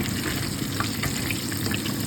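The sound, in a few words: frying vegetables coated in light gram flour batter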